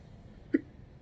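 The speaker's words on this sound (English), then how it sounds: "Why do I get the hiccups?" A single sharp hiccup from a person the day after bariatric surgery, one brief loud burst standing alone against a quiet room.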